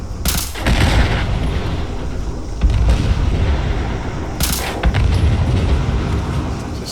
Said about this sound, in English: Just get all the explosions out of the way.